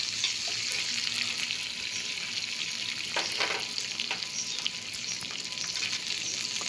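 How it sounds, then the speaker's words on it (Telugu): Chopped capsicum frying in a pan for a curry of soaked bobbarlu beans, with a steady, close, continuous sizzle and crackle and a few brief bursts of louder spitting. "ఇక బాగా క్యాప్సికమ్ వేగాక"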